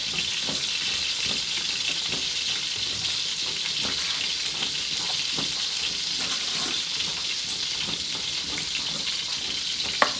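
Chicken cutlets frying in vegetable oil give a steady, close, crackling sizzle with small pops. It runs evenly throughout with no talking.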